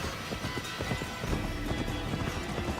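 Rapid galloping hoofbeats of a horse in Assassin's Creed Valhalla, a dense, driving rhythm heard close and loud throughout, with no speech over it.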